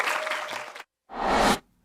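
A crowd claps after a campaign promise to raise teachers' homeroom and position allowances, with two short bursts of dense applause separated by a brief silent gap.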